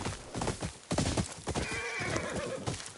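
A horse in Ghost of Yotei gives a loud, close whinny, with hooves clip-clopping around it in a short burst of game audio.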